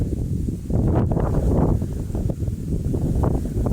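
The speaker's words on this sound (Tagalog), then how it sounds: "maririnig nyo ang ihip ng hangin" Wind gusts steadily across the summit of Hermit Mountain in Barangay Bi-ao, Binalbagan, buffeting the microphone with a continuous low rumble that swells and eases for a few seconds, with no voices heard.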